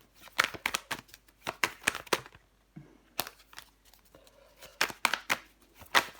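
Tarot cards being laid down and handled during a reading, a run of crisp close slaps and flicks in quick clusters, with a short quiet pause midway before the brisk card handling resumes.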